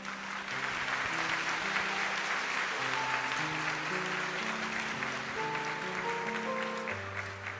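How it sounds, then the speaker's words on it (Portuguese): A congregation at a Sunday Mass gives a sustained round of applause, soft and fairly distant, with organ or keyboard chords sounding steadily beneath the clapping. "dando a eles uma salva de palmas"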